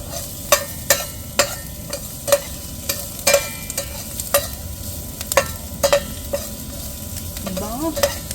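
Garlic sautéing in a pan for chicken liver adobo, with a steady frying sizzle and a spoon scraping and stirring in sharp repeated clicks about every half second, close and loud.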